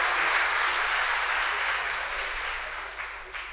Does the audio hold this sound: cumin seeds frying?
no